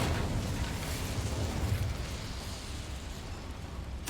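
An Incendio fire spell blasts a boiler in Hogwarts Legacy, a broad rumbling roar that sustains steadily for several seconds before a sharp burst at the very end.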